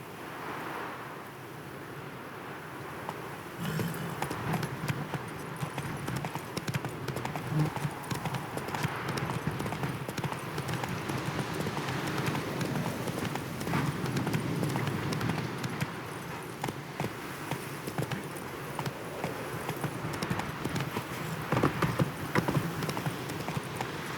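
The horse Roach gallops in the video game The Witcher 3, giving a steady rhythmic clip-clop of hooves under wind and ambient game sound that runs continuously at moderate volume.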